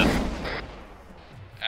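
Explosions and gunfire during a squad battle in the video game Arma 3, a heavy close blast at the start that fades into a rumbling tail, followed by a few sharper bangs.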